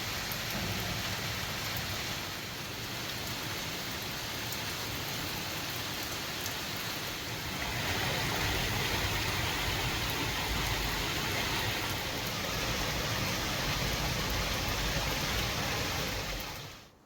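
Steady, dense rain falls across a wet wild garden in Wales, a continuous broadband hiss of drops on foliage and surfaces that grows slightly heavier partway through and holds at a constant close level.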